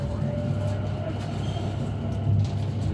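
Greater Anglia passenger train running from Meridian Water toward Stratford, a steady interior rumble of wheels on track with a constant low drone and faint hum, recorded from inside the carriage.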